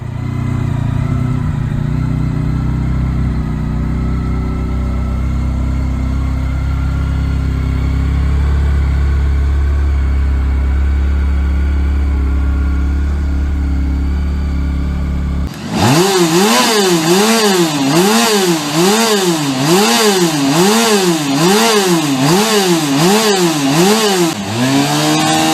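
Motorcycle engine with oval pistons, short stroke and high compression idles with a steady low hum, then revs hard in rapid, rhythmic rising-and-falling surges, loud and close.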